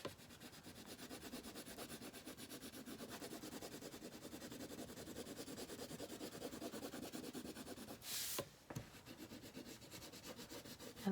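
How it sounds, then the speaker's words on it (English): Crayon rubbed on paper in chunky strokes, a faint continuous dry scratching and rubbing texture, very quiet and close, with a brief louder rustle near the end. "I put the crayon in a kind of a chunky way instead of a smooth coloring"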